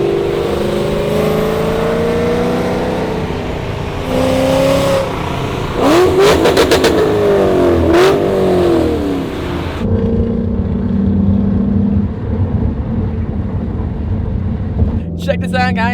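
A 1,000-horsepower Shelby GT500 Super Snake rumbles and revs nearby, the engine pitch sweeping up in bursts over a continuous throaty idle.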